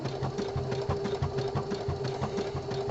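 An inexpensive home sewing machine stitches a boxer brief body panel in lightweight knit fabric, running continuously with a fast, even needle rhythm and motor hum, close and fairly loud.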